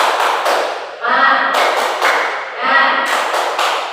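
A classroom of children does 'tepuk semangat', a rhythmic pattern of claps in short bursts with pauses, close and loud, with children chanting along over the claps.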